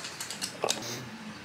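A ratcheting gear wrench clicks on a stud of a Honda K-series motor, giving a few quick, faint mechanical clicks close by.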